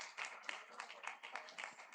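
Applause from an audience at an expo event, a steady patter of many hands clapping at moderate level with no talk over it.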